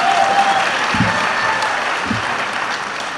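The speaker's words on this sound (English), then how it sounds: "That was some deafening applause there." Applause from an award ceremony audience, a broad steady wash of clapping that fills the room, with a couple of brief low thumps partway through.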